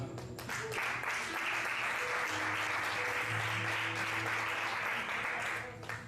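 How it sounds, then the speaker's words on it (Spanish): A church congregation applauds in a sustained wash of clapping that fills the room for several seconds, moderately loud, with voices murmuring underneath. "Damos un aplauso al Señor."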